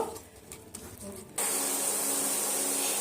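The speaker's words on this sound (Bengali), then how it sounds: "পেঁয়াজের সঙ্গে তেজপাতা আর শুকনো লঙ্কাটা একটু সুন্দর করে একটু লাল লাল করে ভেজে নেব" Onion, bay leaves and dried chillies frying in oil start a loud, continuous hissing sizzle partway through, after a quieter opening with faint background sound.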